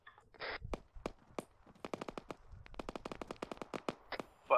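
Gunfire in a military video game crackles as rapid, sharp bursts of shots, quiet and somewhat distant, with irregular clusters of reports and brief pauses between them.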